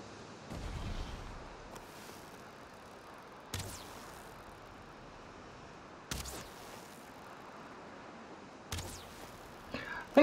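Four or five sharp, isolated shots or arrow releases in Valheim, fired at a creature with long quiet gaps between them over a low, faint ambient background.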